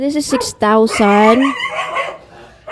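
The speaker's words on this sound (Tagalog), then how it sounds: "Pasensya na sa ingay ng mga aso ko," Several loud, close dog barks in quick succession, mixed with a person talking over them.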